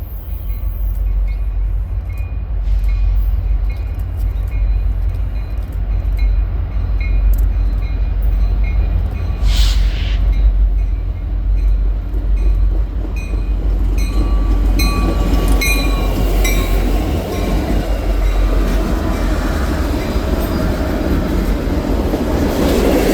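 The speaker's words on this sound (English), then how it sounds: "Illinois Central engines 1001 and 1036, both SD70 standard cabs wearing the famous Death Star paint scheme, would lead UP 7106" Freight train led by Illinois Central SD70 standard-cab locomotives in Death Star paint rolling past on the CN Champaign Subdivision in Illinois, a steady loud rumble of wagons and wheels throughout, growing rougher with some wheel noise toward the end.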